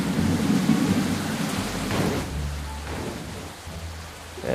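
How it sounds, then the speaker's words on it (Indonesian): Rain pours steadily in the BUSSID bus simulator while thunder rumbles loudly and low at the start, fading into softer rolling thunder under the constant hiss of rainfall. "Hujan terus bre."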